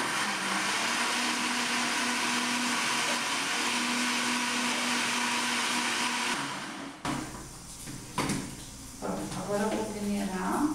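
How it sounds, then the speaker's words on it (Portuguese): Blackberries whirring in a blender for a carrot and blackberry juice, a steady loud motor hum lasting about six seconds before it cuts off, followed by quieter handling noises and a voice speaking. "eu vou bater primeiro a amora e vou peneirar"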